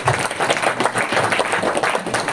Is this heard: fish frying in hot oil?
no